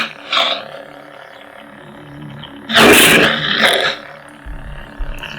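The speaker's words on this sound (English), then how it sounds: "come over here and hit power. This thing is turned up to 2100" A Neopixel lightsaber with a Proffie board and its volume turned up high gives a deep, beefy roar after power-on, with short surging swells and a loud, harsh burst in the middle, heard alone and close.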